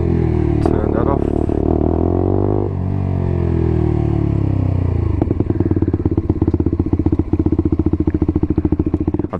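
A Lexmoto motorcycle with its exhaust baffle removed idles with a loud, raw, rasping drone, briefly revving and dropping before settling into a fast, uneven popping idle, close up.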